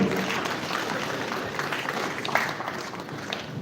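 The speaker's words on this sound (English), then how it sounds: "One more time, a warm applause" Warm audience applause at a Nigerian national peace accord signing event, a dense, sustained wash of many hands clapping at an even level from start to finish, with little speech over it.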